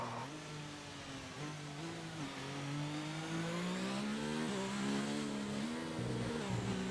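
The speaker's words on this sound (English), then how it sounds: "I do like the sound of the engines as well." F1 car engines in the video game F1 2019, a high-pitched whine rising and dipping as the cars accelerate and shift, steady and fairly loud throughout.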